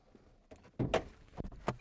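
Car hood being opened: a few muffled clunks and a latch click, close by and brief, with quiet gaps between.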